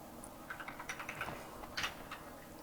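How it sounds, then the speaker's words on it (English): Typing on a computer keyboard at a desktop PC during an OS restore, a steady patter of close key clicks with a brief faster burst, no speech. "I'm having to do everything via the keyboard"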